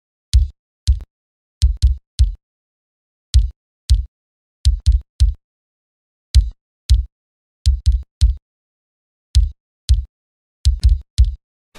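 Isolated metal-style kick drum hits, tight and punchy with abrupt noise-gated cutoffs, played in short irregular bursts and double strokes with dead silence between.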